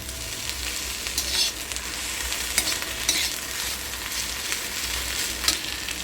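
Okra (bhindi) pieces frying in oil in a pan, giving a steady loud sizzle with intermittent sharp crackles and stirring clatter throughout, no voices.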